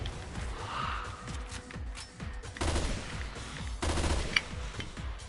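Full-burst gunfire in Resident Evil Revelations 2 raid mode, rapid clusters of loud gunshots in quick bursts with short pauses between them, plus a sharp crack near the end.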